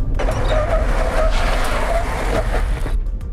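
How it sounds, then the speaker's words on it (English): A 2020 Nissan Patrol V8 brakes hard during a brake test: a loud, close roar of engine and road noise with a rough skidding, tire-scrubbing edge, cutting off sharply at the end. "Here we go, brake test."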